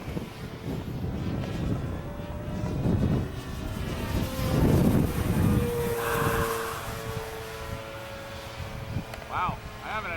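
A giant J Power P-51 Mustang RC plane flies at half throttle, its engine drone rising and falling as it passes at a distance amid wind buffeting, with people talking over it.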